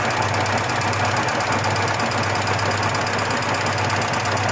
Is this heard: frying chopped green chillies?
no